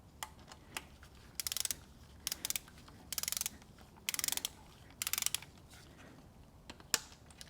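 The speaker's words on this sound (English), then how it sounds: "We'll go ahead and torque that down to the specified 18 foot-pounds" Torque wrench clicking as servo cover bolts are tightened on a GM 4L80E automatic transmission, several quick bursts of close ratchet clicks separated by short pauses, with a few isolated metallic ticks, no talking.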